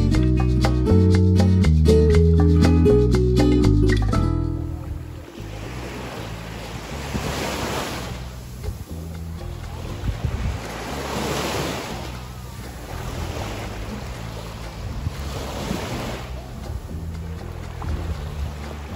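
Waves washing onto a beach at a natural reserve on the Riviera Maya coast; after a few seconds of music, steady surf swells and recedes in slow surges amid wind noise on the microphone.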